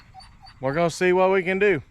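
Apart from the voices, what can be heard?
dog whining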